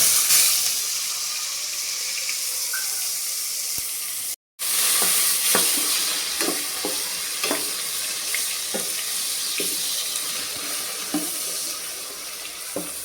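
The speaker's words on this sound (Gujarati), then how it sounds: "આપણે તેલ મૂકી દીધું છે, હિંગ નાખશું, અને આ ગ્રેવી આપણે બનાવી છે ને એ ગ્રેવી નાખશું" Tempering with hot oil, asafoetida and gravy in a pan for a Gujarati mixed vegetable dish: constant loud sizzling hiss, briefly cut off, then resuming with scattered pops and spoon clinks, no talk.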